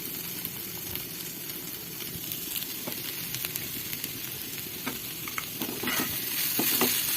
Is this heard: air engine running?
no